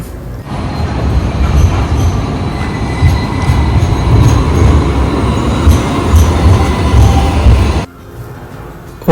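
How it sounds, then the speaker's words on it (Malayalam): A light rail train pulls into a station in Sydney with a loud, steady rumble of wheels on rails and faint squeals. It stays close and continuous before cutting off abruptly near the end. "നമുക്ക് പോകാനുള്ള ലൈറ്റ് ട്രെയിൻ ആണ് ഈ വന്നുകൊണ്ടിരിക്കുന്നത്."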